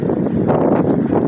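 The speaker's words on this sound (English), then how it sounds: "Alright, here's the wind." Wind buffets a phone microphone outdoors, producing loud, rough, rumbling gusts that fill the whole brief moment with no speech over them.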